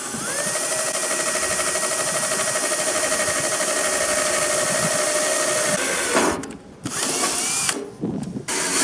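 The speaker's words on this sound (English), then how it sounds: "Go ahead and drill the pilot hole." A cordless power drill bores a pilot hole while mounting a solar charger on a PJ tandem dump trailer, whining steadily and loudly for several seconds before slowing, stopping and briefly revving again.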